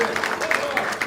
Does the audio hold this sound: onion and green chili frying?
no